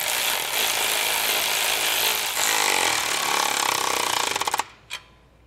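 A power impact tool tightens carriage bolts on a rear axle clamp during an Air Lift air helper spring install. It gives a loud continuous rattling hammer close by that ends in rapid clacks, then a brief last burst.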